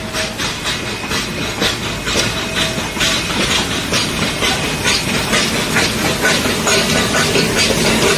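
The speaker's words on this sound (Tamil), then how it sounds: "புதிய பெட்டிகளுடன் ஊட்டி மலை ரயில் சோதனை ஓட்டம்" Ooty mountain railway train running a trial with new coaches, a steady loud rumble and rhythmic clatter of wheels on track with hissing, continuous throughout with no voices.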